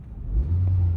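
A four-cylinder family car with a very refined engine is revved briefly up close, a smooth low hum rising into a short, steady drone.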